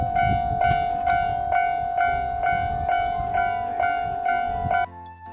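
A pair of DD51 diesel locomotives hauling 12 series passenger cars passes a level crossing in Japan, with the crossing bell ringing in a steady rhythm over the rumble of the train until the bell stops.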